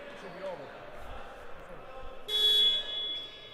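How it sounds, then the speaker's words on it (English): A game-ending buzzer sounds at an ultimate disc match in the Baltic League, a sustained electronic tone lasting about a second near the end, rising over crowd noise and commentary-like chatter. "the buzzer started sounding just before the disc was caught"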